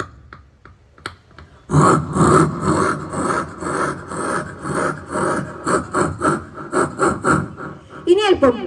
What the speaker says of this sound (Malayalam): എവിടുന്നോ ഒരു മരം മുറിക്കുന്ന സൗണ്ട് കേൾക്കില്ലേ?